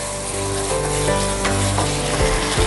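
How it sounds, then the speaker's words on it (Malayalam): Masala sizzles and fries in a non-stick pan, a loud, close, continuous crackling hiss with faint stirring scrapes and no talking. "എന്തായാലും മസാല നല്ലതായിട്ടൊന്ന് മൂക്കട്ടെ, നല്ല മണം വരണം."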